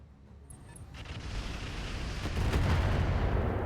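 Incoming mortar fire in the mech strategy game RogueTech, a dense rumbling barrage of blasts that swells steadily louder and closer over a few seconds.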